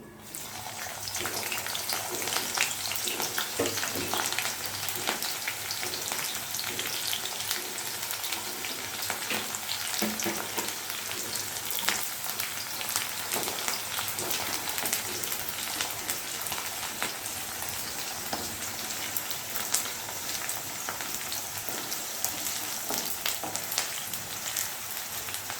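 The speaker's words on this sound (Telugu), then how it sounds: "ఇప్పుడు ఇందులో జీలకర్ర, ఆవాలు, ఎండుమిర్చి వేసుకుందాం" Cumin, mustard seeds, dry chillies and onions sizzling in hot oil for a bottle gourd curry, a continuous close crackling sizzle with scattered pops, steady throughout with no talk.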